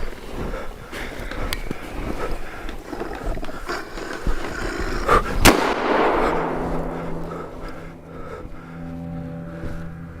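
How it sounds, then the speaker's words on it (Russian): Gunfire in a foggy horror video game, a sharp loud shot standing out amid a dense, noisy soundscape, followed by a decaying rumble and lingering tonal drone. "Я буду стрелять."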